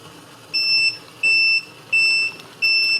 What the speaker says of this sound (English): multimeter's warning me that I've left it on too long